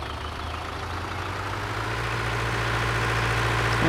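A tractor engine idles and slowly revs up in Farming Simulator 2013, a low steady rumble with a deep hum that grows gradually louder.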